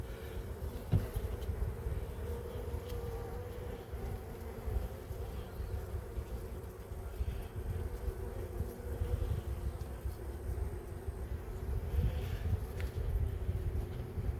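Honeybees at a Tanzanian top-bar hive give a steady low buzzing drone, fairly close and continuous, with light wind noise behind it.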